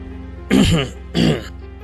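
Two rough, gravelly throat clearings in quick succession, close up, each a short voiced rasp with a pause between them.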